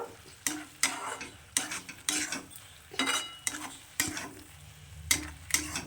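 Eggs and milk are stirred into spinach in a pan, a spatula scraping and clattering in irregular bursts over a light sizzle, close and fairly loud, with no talking.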